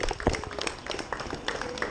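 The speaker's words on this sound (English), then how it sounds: "big round of applause for everybody" Scattered clapping from a small group of people gathered outdoors beside a Jeep, a brief, moderately loud patter of claps with a few sharper hits.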